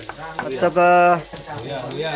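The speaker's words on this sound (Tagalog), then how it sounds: "Tapos igisa uli yung sibuyas" Onion sautéing in a hot pan for a home-cooked Filipino eel dish, a steady crackling sizzle with a brief louder hiss in the middle, close and fairly loud, with a voice faintly underneath.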